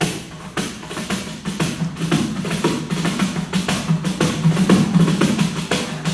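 Brazilian pandeiro flicked by hand, close and steady: a fast, continuous rattle of jingles and snappy slaps over a low drum thump, with no talking.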